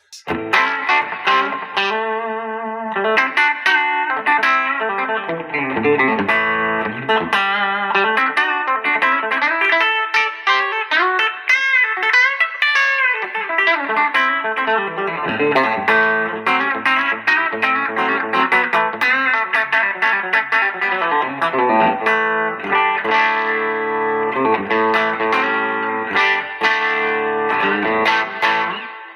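A clean Fender Telecaster Deluxe electric guitar played straight into the amp rings out with chords and picked notes for a long stretch, steady and fairly loud, with no talking.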